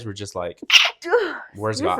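A single sharp sneeze bursts out in the middle of a conversation, with people talking just before and after it.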